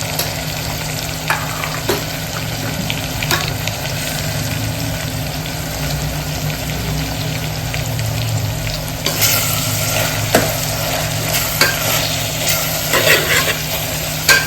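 Val khichdi masala with chilli powder and turmeric sizzles steadily in a pan while being stirred, a constant frying hiss with occasional scraping clicks and a low background hum, close and without talk.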